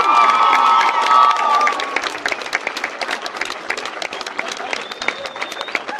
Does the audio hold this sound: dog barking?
no